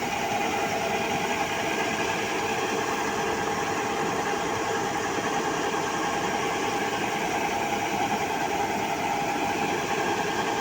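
A tractor engine runs steadily throughout while sacks are unloaded, a constant loud droning hum with vibration and no pauses or talk.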